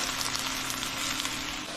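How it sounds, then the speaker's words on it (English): Mushrooms fry in a pan with a steady, even sizzle that holds close and constant the whole time, with no one talking. "we're going to go ahead and cook out all the moisture out of the mushrooms"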